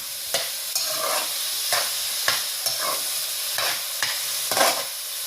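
Chopped onions sizzle steadily in hot oil as they fry toward golden brown, with a scraping stir of the spoon every second or so cutting through the constant hiss, and no voices.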